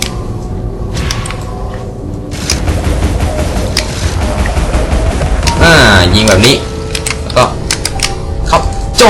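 Rapid bursts of grenade explosions and gunfire from Alice: Madness Returns, dense and loud, with a player talking over the action throughout.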